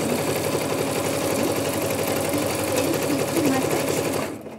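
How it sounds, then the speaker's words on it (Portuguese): A sewing machine stitches along the edge of fabric with the presser foot down while a boxy zippered toiletry bag is made. It runs as one steady, loud, close whir for about four seconds, then stops abruptly at the end. "Eu costuro bem na pontinha com o calcador"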